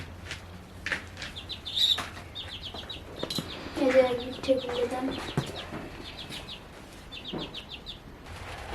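Chickens cluck and squawk as they enter a coop, several short clucking bursts near and fairly clear, with someone talking over parts of it and some wing flutter.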